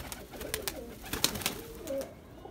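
Breeding pigeons coo close by in their coop, a series of soft, low, rolling calls repeating in quick succession.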